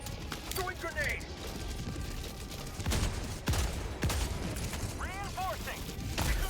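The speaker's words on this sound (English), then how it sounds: "Throwing grenade!" A grenade is thrown and explodes during a firefight in Helldivers 2, with sharp blasts and bursts of gunfire over constant battle noise, plus a couple of brief chirping calls.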